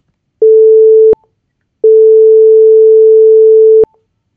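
A pure steady 440 Hz tone sounds twice, first briefly then for about two seconds, each with a click at its end, loud and clean against silence.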